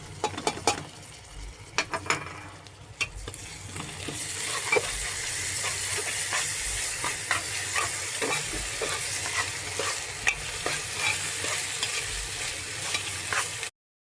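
Ginger garlic paste frying and being stirred in a pan for khichuri, a busy, close crackling sizzle with repeated scraping strokes that grow denser and louder after the first few seconds.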